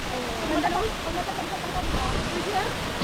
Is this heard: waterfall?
yes